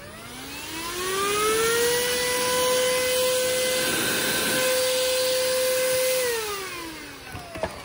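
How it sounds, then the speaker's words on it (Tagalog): A cheap handheld car vacuum cleaner spins up with a rising whine, holds a steady loud motor drone, then winds down near the end, with no talk over it. "parang car vacuum lang siya"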